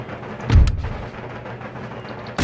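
Artillery fire from the video game Empire Total War, with one heavy booming cannon shot near the start over a low battlefield rumble, followed by a sharp second shot at the end.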